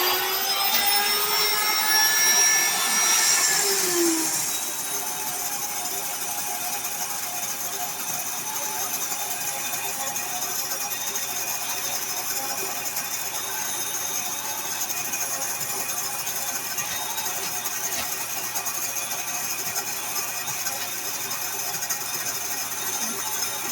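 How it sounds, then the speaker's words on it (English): A Wonder Mill electric grain mill grinds hard white wheat berries, a steady, loud whirring drone with a harsher, grittier start for the first few seconds before settling into an even hum that runs alone throughout. "Just finished grinding 7 cups of wheat berries. This Wonder Mill is so nice and fast."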